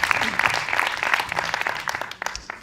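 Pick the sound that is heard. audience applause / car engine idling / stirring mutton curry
audience applause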